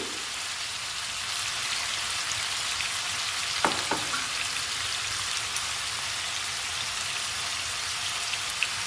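Potatoes frying in a pan with onion-chilli spice, a steady dense sizzle and crackle like light rain that holds evenly throughout, with a couple of brief clicks partway through.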